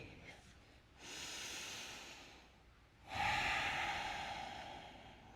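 Two long, deep yoga breaths, a slow inhale and then a fuller exhale, close and airy with no talking.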